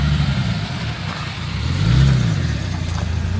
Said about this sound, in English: Oh, we just started misfiring.